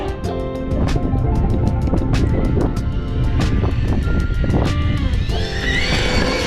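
Losi 8ight-XE 2.0 RC buggy driven at full throttle, a loud, continuous high-pitched electric motor whine with rapid rising and falling surges and sharp clicks as it passes close by.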